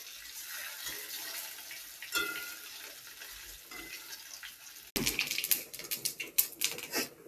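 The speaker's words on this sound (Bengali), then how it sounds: "দেখো মাছের ডিমগুলো ভেজে নিচ্ছি" Fish roe sizzling in hot oil in a pan, a steady crackling fry that jumps louder and busier partway through, with no talking.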